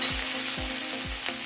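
Chili paste sizzling as it goes into a frying pan of browning mixture for a Maharashtrian fanji leaf kadhi gole dish, a steady close broadband hiss with a few soft stirring scrapes, no talking.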